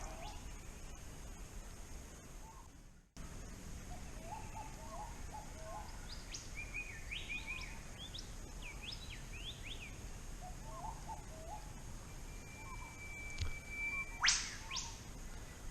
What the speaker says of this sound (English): Love listening to the sound of the bird calls when you're out on the water.